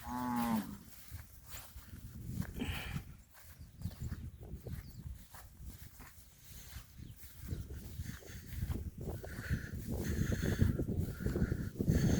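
A cow moos a few times outdoors on a rural homestead amid rustling and shuffling movement noise, fairly faint and distant, with no speech.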